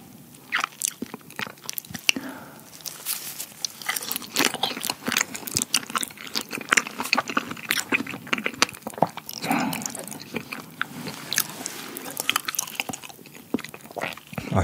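Close, crisp chewing and biting of chocolate mochi, with repeated soft crunches and wet mouth sounds in an irregular rhythm, heard alone without talk.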